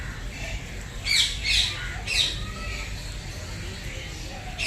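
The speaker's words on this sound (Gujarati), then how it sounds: "તો કેવા છે પક્ષી એ પણ બી તમને બતાવવાની કોશિશ કરીશું" Birds squawk inside an aviary at Kankaria zoo, several loud harsh calls in quick bursts over crowd murmur and a voice talking.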